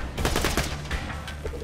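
A quick run of rapid gunshots in Borderlands at the Hyperion Slaughterhouse, a short, close, dense burst of automatic fire lasting under two seconds.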